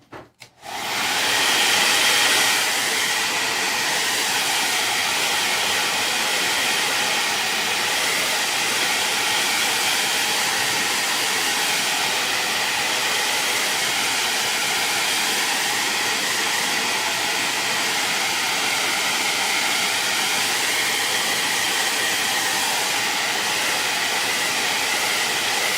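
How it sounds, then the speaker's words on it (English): Hair dryer blow-drying fresh paint on a DIY cookbook stand, a loud, steady, close whooshing roar that starts after a brief click and runs on unchanged, with no talking. "I'm going to get this blow dried"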